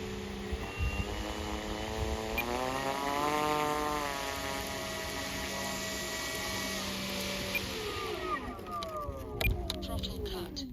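Electric motor of a Nexa King Quest 100 model airplane whirring at a steady pitch that rises slightly mid-run, then winds down as the throttle is cut, with a quieter tail of mechanical noise.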